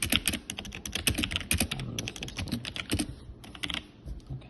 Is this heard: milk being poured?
no